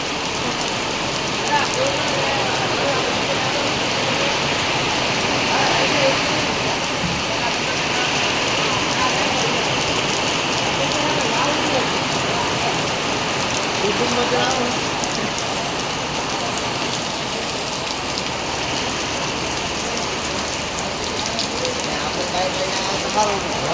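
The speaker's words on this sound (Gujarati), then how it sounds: "વરસાદ ચાલુ છે તમે જોઈ શકો છો" Steady heavy rain pours down without a break in Bhabhar, a dense broadband hiss of drops striking surfaces close by for the whole stretch.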